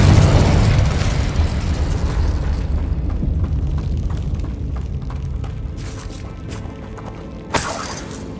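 A Confringo fire spell bursts during Hogwarts Legacy combat: a loud, rumbling explosive blast at the start that decays into a long roaring tail, with a sharp crack near the end.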